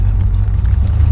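A 1970 Buick Electra 225 engine under light acceleration, a loud steady low rumble heard from inside the car with road noise beneath.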